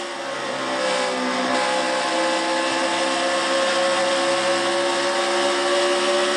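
A stock car engine in a racing video game screaming at high RPM, a dense, sustained, buzzy roar that climbs slightly at the start and then holds steady and loud.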